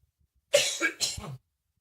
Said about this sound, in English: there's a lot of those coughs in there from both of us